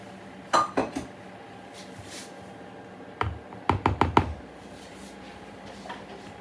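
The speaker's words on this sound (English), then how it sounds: "I'm going to mix it in with the flours." Cooled apricot mixture is mixed into flours in a bowl, heard as a few clusters of close utensil clinks and taps against the bowl, separated by quiet pauses, with no talking.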